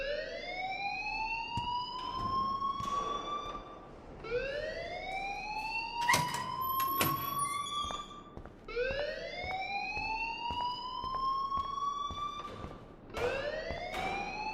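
Electronic alarm in the Life is Strange video game, a rising siren-like whoop that sweeps upward and repeats roughly every four seconds, loud and steady, with brief background clatter in between.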